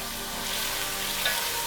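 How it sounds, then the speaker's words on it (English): Vegetables fry with ginger, garlic and turmeric paste for Kenyan githeri, giving a short, steady, close sizzle with a faint stir near the end. "Stir every once in a while so that they cook all even"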